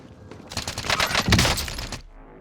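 Rapid bursts of automatic gunfire in the Warzone battle royale game, loud and dense for about a second and a half, tailing off into quieter ambience.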